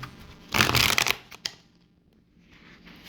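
Tarot cards riffle and shuffle in a close, loud burst of dense papery flutter lasting about half a second, followed by a few softer card taps and a quiet rustle as the deck settles.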